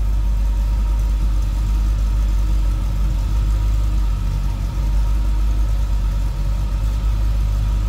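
A 1971 Chevrolet C10 V8 with true dual exhaust, H-pipe and headers idles steadily from behind the truck, a continuous deep rumble with no speech over it.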